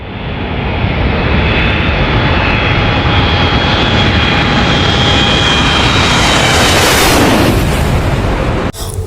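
Toy Garuda Indonesia passenger airplane with propellers playing a loud, continuous roaring engine sound effect that swells steadily and cuts off abruptly near the end.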